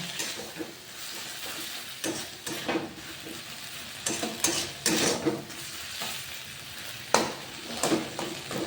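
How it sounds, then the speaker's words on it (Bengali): Masala for a restaurant-style mushroom curry sautéing in a pan, a quiet continuous sizzle broken by repeated scraping stirs of a spatula against the pan. "মশলাটা ভালোভাবে কষিলে, কষা হয়ে গেলে একটু ভালো করে কষাতে হবে মশলাটা।"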